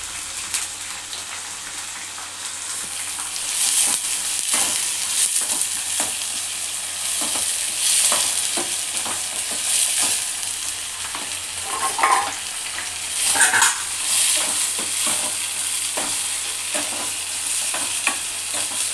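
Green chillies fry in hot oil in a pan, sizzling steadily up close while a spoon scrapes and stirs in repeated clicks and swishes, with no talk.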